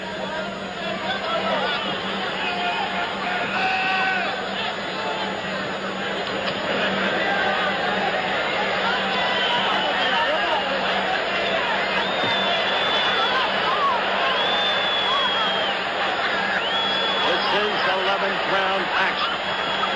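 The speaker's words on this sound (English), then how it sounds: "The crowd roars incessant." A boxing arena crowd at Roberto Duran versus Edwin Viruet keeps up a continuous roar and babble, with a broadcaster talking over the sustained noise throughout.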